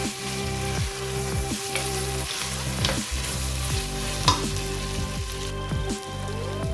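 Mutton fries with garlic, ginger and onion, sizzling loudly in a hot pan with rhythmic stirring and scraping strokes repeating every second or so, close and steady throughout.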